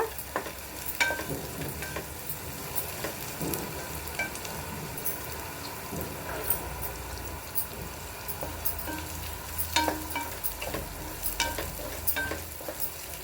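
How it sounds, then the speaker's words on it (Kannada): Cashews, raisins and onion fry in a pan with a steady close sizzle, broken by occasional scraping stir strokes, with no one talking. "ಹಾಗೆ ಗೋಡಂಬಿ ದ್ರಾಕ್ಷಿ ಹಾಕ್ತಾ ಇದ್ದೀನಿ ಆನಿಯನ್ ಗೋಲ್ಡನ್ ಕಲರಲ್ಲಿ ಬರಬೇಕು"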